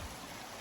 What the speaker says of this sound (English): Cute little brook here.